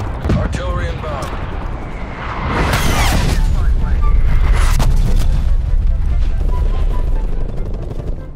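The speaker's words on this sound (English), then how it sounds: "Artillery inbound." Artillery strike explosions in the Call of Duty: Cold War beta, heavy booming blasts and rumbling impacts building into a loud sustained barrage, with a voice talking over it.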